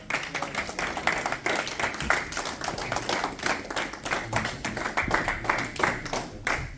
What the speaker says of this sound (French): Est-ce qu'on peut bien applaudir pour notre ambassadeur?